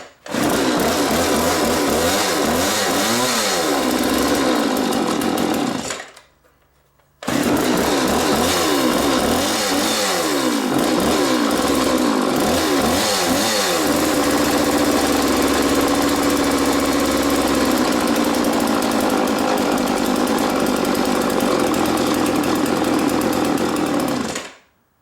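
A McCulloch 3200 chainsaw engine runs loud and close, rapping unevenly and revving, cutting out briefly before restarting and holding a steadier buzzing run for the rest.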